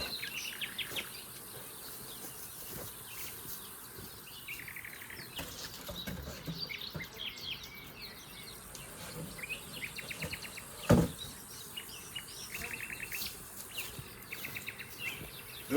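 Honeybees from captured swarms buzz faintly around new hives at an apiary, a steady, soft insect hum with scattered bird chirps in the background and no talk.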